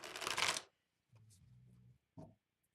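Tarot cards shuffled in a brisk, crisp riffle lasting about half a second, followed by quieter, softer handling and tapping of the deck, with no talking.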